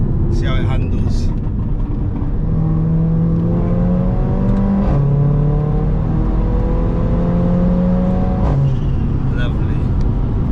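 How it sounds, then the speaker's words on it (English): Turbocharged engine of a Mercedes A45 AMG revs in rising, stepped pulls with a whistling tone over road noise, the pitch climbing repeatedly; someone talks over parts of it. "You can hear that nice turbo whistling engine."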